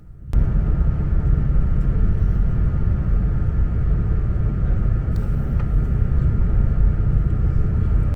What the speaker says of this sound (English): Soon after departing Nuneaton, we overtake 88010, working 4 Mike 27, a Moss Centre Daventry intermodal service